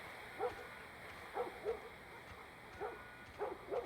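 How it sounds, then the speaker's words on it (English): A dog squeals and whimpers in The Last of Us Part 1, in short high yelps that come in small clusters across a quiet room with a faint steady background hum. "Walking downstairs to a silent room, the sound of the dog squealing, and Joel rushing in through the back door,"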